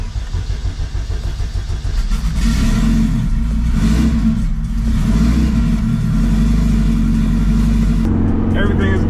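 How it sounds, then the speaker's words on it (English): A turbocharged Honda K20A engine in a coupe turns over and catches, then revs in rising surges, loud and close, holding a rough idle before a brief change near the end. "Let's crank this bitch up."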